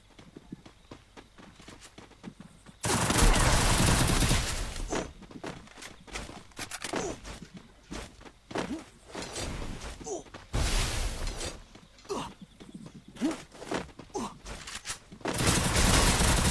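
An M60 machine gun fires in a video game, with three loud, sustained bursts separated by quieter in-game sounds and movement.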